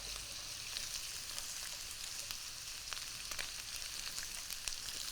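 Steady, close sizzling of vegetables, including mangetout, stir-frying in a hot wok for chow mein, a dense hiss with scattered crackles and faint clinks of stirring throughout.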